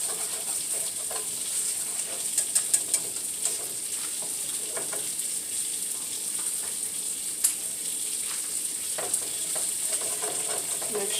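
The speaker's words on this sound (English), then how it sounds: "Scrape the bottom of the pan to get all those meat drippings off of the pan." Flour cooking down in meat drippings in a pan for Sunday dinner gravy, a steady close sizzle with scattered light clicks and scrapes of a utensil across the pan bottom, no talking.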